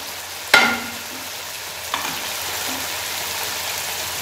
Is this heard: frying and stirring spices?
yes